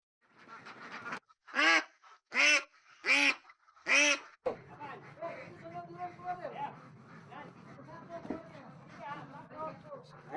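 Ducks at a duck farm give four loud, evenly spaced quacks close by, then a noisier flock keeps up softer overlapping quacking and calls in the background.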